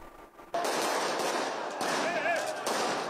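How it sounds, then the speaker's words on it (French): Fireworks and smoke flares fired amid a protest crowd in Serbia, rapid crackling bursts and pops over continuous loud crowd noise, with shouting voices in the mix. "Des feux d'artifice et des tirs de fumigène au milieu de la foule."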